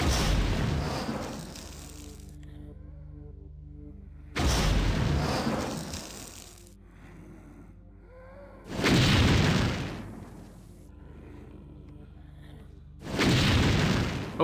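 Four deep, booming explosions in a Thief fan mission game, each a heavy burst with a rumbling tail, repeating at roughly four-second intervals with quieter mechanical sounds between.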